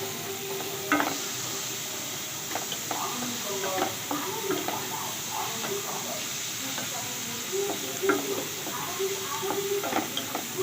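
Chopped tomato and green chili fry and sizzle in a pan while being stirred, giving a soft steady hiss broken by clinks and scrapes of the spoon, with quiet talking in the background.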